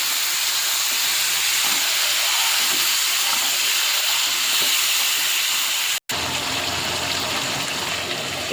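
Spice-marinated chicken drops into a hot pan of fried onions for a green chilli chicken curry, setting off a loud, continuous steamy sizzle that cuts out briefly and then resumes strongly.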